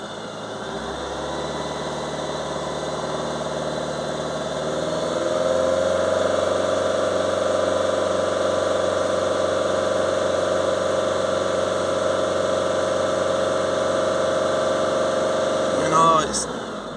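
The diesel engine of a Fiat Ducato van with soot build-up in its diesel particulate filter idles steadily up close, then revs rise to about 2,500 rpm, a higher sustained drone held there, with a brief rattle near the end.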